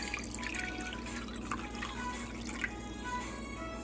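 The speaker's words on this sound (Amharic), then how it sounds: "በመጀመሪያ ውሃ እናደርጋለን በጎድጓዳ ሳህን ላይ" Water from a tap runs and drips into a bowl as cold water is added for Ethiopian flaxseed fitfit, a steady wet trickling close by with no one talking.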